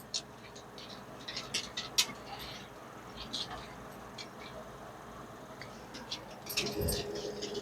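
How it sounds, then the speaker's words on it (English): A cat meows in a domestic kitchen, a few short faint calls scattered through a quiet room with background hum and light household noise. "Meow?"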